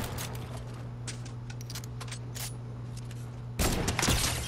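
Rapid, crisp gunshots crackle in irregular bursts during a Fortnite match over a steady low hum, ending in a louder, denser volley of fire.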